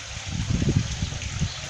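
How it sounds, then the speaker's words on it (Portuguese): Water pours out of a garden pond filtration system into the pond, a continuous close splashing and trickling rush with no voices. "Então a água sai do lago."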